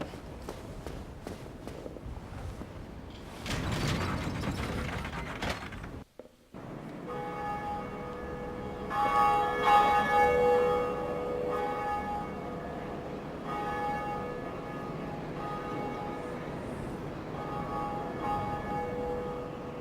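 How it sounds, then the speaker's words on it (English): A Bell of Awakening in the Dark Souls video game, in the Undead Parish, rings out in long resonant tolls that sustain over a steady game background, preceded by footstep-like shuffling and a short dropout. "This is our first Bell of Awakening."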